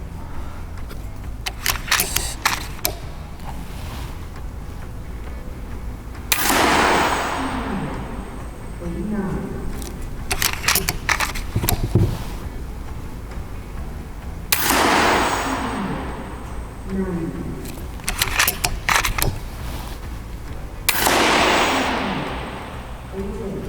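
FX Impact air rifle fitted with a Power Plenum, fired several times at maximum power, sharp loud cracks spaced several seconds apart with Spanish-speaking talk and handling noise between shots.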